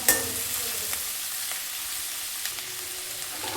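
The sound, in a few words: onions frying with green chillies and curry leaves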